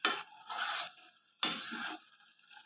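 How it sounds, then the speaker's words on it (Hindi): Raw coconut sweet mixture stirred in a pan with a spoon, two bursts of scraping, swishing strokes separated by a brief pause, close and clear with no talking. "इस तरीके से चलाते हुए मिक्स करना है"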